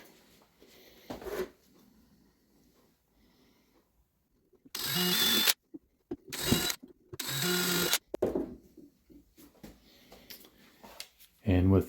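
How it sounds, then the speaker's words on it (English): Cordless drill driving screws into a particle board base for an Ikea Kallax shelf, several short close bursts of whirring with pauses between, the loudest three in quick succession, amid quiet handling noises. "And with the included bit chucked up in my drill, I'm going to drive those screws in."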